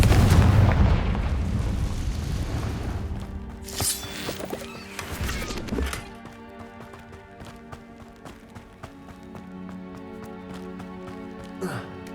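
A Confringo fire spell blasts in the Hogwarts Legacy video game with a burst of heavy explosive booms and crackling impacts, then fading clanks and a lighter hit near the end.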